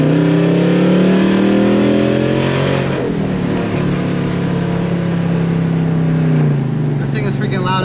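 Tuned car engine revving loudly nearby, a sustained roaring drone that sweeps up and down in pitch, with a voice talking over it toward the end.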